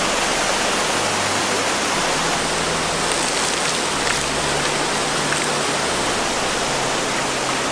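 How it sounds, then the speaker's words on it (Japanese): Steady rain falls at a secluded mountain hot spring in Japan, a continuous dense hiss with no let-up and no voices. "結構雨が降ってきたよ。"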